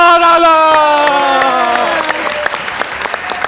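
A studio audience applauds at a talk show, a loud dense burst of clapping that thins out into scattered claps over a few seconds, with a brief spoken word over it.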